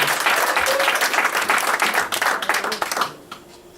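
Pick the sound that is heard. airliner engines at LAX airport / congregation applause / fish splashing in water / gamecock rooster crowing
congregation applause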